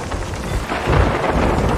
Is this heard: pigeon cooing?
no